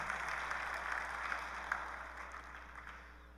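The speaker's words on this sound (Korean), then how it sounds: "우리 박수로 격려해 주시기 바랍니다." Faint applause from a church congregation, a steady patter of clapping that slowly fades, heard from a distance in a large room.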